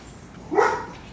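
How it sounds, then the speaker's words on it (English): A single short bark from a dog at the dog next door, close and moderately loud against a quiet yard before a storm. "These two, they're barking at the dog next door."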